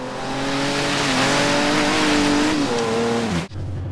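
A Dodge Hellcat muscle car in Forza Horizon 3 revs hard, its loud engine tone climbing and wavering, then dipping sharply as it shifts before settling back into a steady roar.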